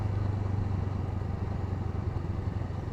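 A Honda Rebel 500 motorcycle engine runs steadily at low revs while slowing on a mountain road, a continuous close rumble with a faint clattering texture and no talk.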